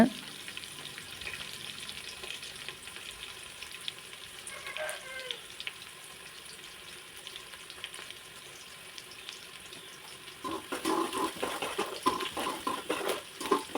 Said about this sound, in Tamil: பெருவெங்காயம் நல்லா வணங்கட்டுன்னு குடமிளகாயும் போட்டு அதையும் நல்லா வணங்க விட்டுருங்க